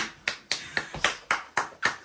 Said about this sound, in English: Why are you clapping for?